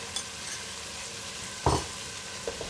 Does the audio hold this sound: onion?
yes